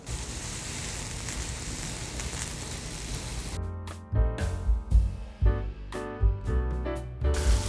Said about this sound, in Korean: 자, 이제 새우를 굽도록 하겠습니다.